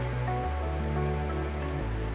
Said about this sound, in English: is the river and birds in the wind.